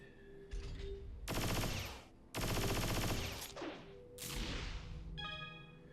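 Rapid bursts of Dual Guns DGX gunfire from the video game .hack//G.U., loud dense volleys of automatic shots with a brief gap between them, then a fading trailing burst and bright electronic chimes at the end.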